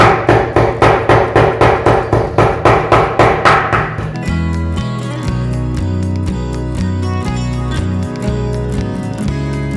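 A sharp meat cleaver strikes beef fat on a board for handmade burgers, giving steady loud rhythmic chops at first, then a denser, faster run of blows with no talking.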